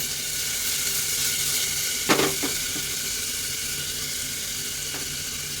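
Onions sizzling in a pan as they soften while being fried, a steady close hiss with a couple of brief clinks of a utensil partway through.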